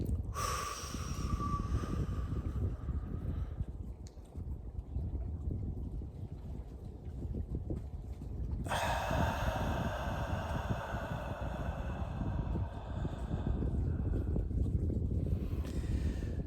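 Slow, steady breathing in and out during a guided breathing exercise, soft airy inhales and exhales close to the microphone, with a louder, brighter breath phase partway through and no talking.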